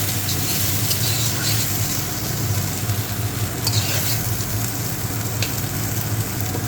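Okra (dherosh) fries in a pan, giving a loud, dense, continuous sizzle that holds steady throughout with faint stirring clicks.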